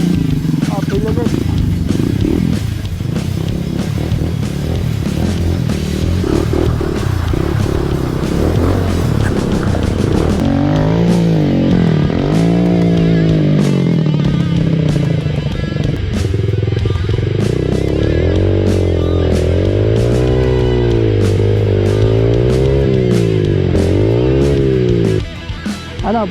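A Microbike MMC 150XR trail motorcycle engine strains uphill and revs continuously, its pitch rising and falling as the throttle is worked, loud and close throughout.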